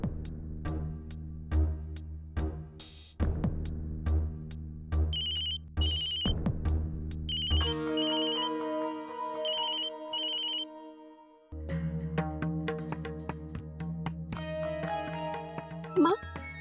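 A phone ringing when calling Naitik, repeated electronic ringtone melody in regular bursts, followed by a steady ringback pattern, with dramatic background music underneath.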